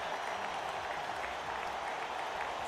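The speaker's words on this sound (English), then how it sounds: "Then the claps of the beat eventually turned into thunderous applause." Thunderous applause from a festival crowd after a performance, a dense, steady wash of many hands clapping at full volume throughout, with no voices standing out.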